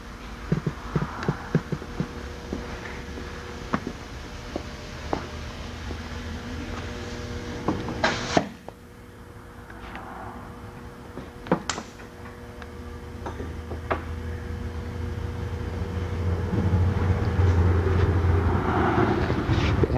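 An AMH model 3212 SA2P semi-automatic hydraulic clamp machine, run with two palm buttons, hums and throbs steadily, with a rhythmic ticking and a few sharp clunks from the clamp cycling.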